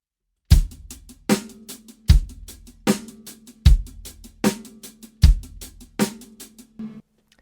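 A drum kit plays a simple repeating beat, with strong kick and snare hits alternating under steady cymbal strokes, close and clear, no talking.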